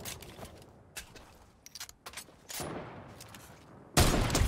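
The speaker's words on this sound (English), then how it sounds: "That guy just got double heavy sniped." Heavy sniper rifle shots fire in a video game: a few sharp cracks with scattered clicks between them, and a loud burst at the end. Brief speech is heard in the background.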